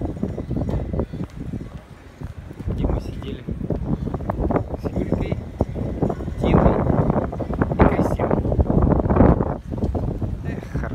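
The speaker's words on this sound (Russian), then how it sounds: "Погода стоит отличная, только ветер сильный." Strong wind buffets the microphone outdoors at Lilla Torg square in Malmö, producing heavy low rumbling gusts that swell and fade while people talk nearby.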